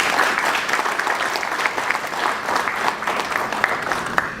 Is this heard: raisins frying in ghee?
no